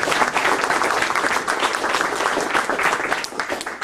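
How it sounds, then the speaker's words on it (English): Audience round of applause at a reopening night at Kennys in 2008, continuous loud, dense clapping from a room full of people, with no talk over it. "I'd like to give a little round of applause to all the Kelly"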